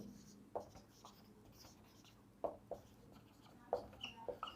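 A pen writes out notes in a chemistry lesson, soft scratchy strokes in short clusters separated by pauses, quiet and close.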